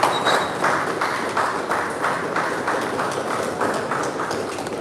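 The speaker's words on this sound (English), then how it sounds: "So are we giving a round of applause?" A round of applause from an audience at a live event, steady group clapping with a slightly pulsing rhythm that carries evenly for several seconds.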